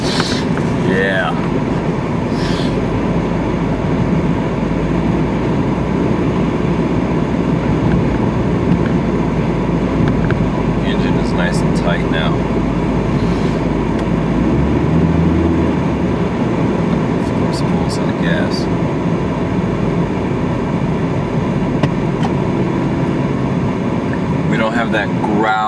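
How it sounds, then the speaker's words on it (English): A Dodge Neon engine runs with a worn motor mount, vibrating against the frame in an alley amid traffic, producing a steady low rumbling growl that holds for the whole stretch with faint higher clatter above it. "that growl of the engine vibrating against the frame"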